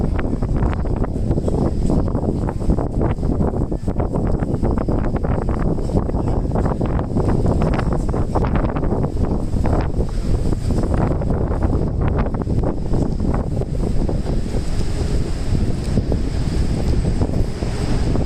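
Constant gusty wind on a Tokyo street buffets the microphone, a loud rumbling roar with a hint of surf behind it, no voices.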